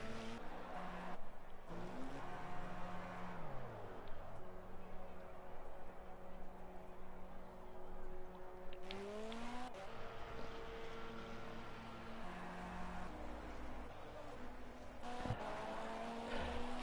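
LMP2 prototype race car at Le Mans, its engine note rising and falling through gear changes as it runs past, heard at moderate distance under commentary.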